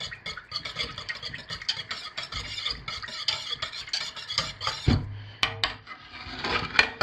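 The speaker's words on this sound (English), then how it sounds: "Let's hand stir this in and see what it looks like." Soap batter being hand stirred with fragrance oil, a busy run of close scraping, swishing strokes in quick irregular rhythm, followed by a brief knock and a few scattered clatters near the end.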